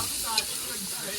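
Chilli-spiced chicken gravy fries in a pan outdoors, a dense, even hiss of sizzling with a faint brief clink partway through.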